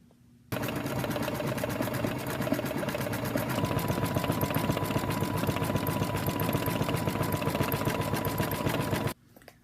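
An embroidery machine stitching a decorative bean stitch on a purse book panel starts abruptly, running a fast, even, rhythmic mechanical clatter for about nine seconds close to the microphone before stopping, with no talk.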